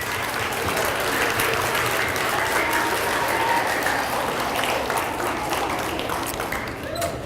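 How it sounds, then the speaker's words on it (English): A school D.A.R.E. graduation audience of parents and relatives claps steadily for a fifth grader, a dense, even wash of applause that holds for the whole stretch with a light murmur of voices underneath. "Once again, let's give our fifth grader a big round of applause."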